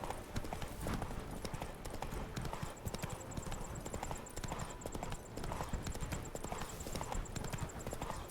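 Steady clip-clop of Roach's hooves in The Witcher 3, a rapid trotting rhythm that runs unbroken and fairly close, with a faint high ticking layered above and occasional soft game ambience.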